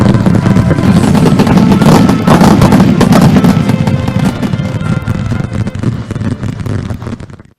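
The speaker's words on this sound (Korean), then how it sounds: "마을에서는 새집들이 경사를 더해주며 불꽃놀이가 진행되고" Loud, continuous crackling and popping of village celebration fireworks going off close by in North Korea, dense bursts that gradually thin out toward the end.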